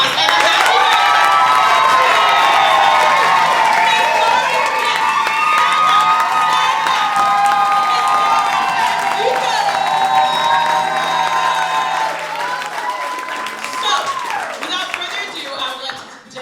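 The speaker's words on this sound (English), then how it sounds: "So can we just give a round of applause" Crowd at a benefit concert in New York cheering and clapping, with whoops and shouts over a loud wash of applause while a melodic voice carries above it, thinning out near the end.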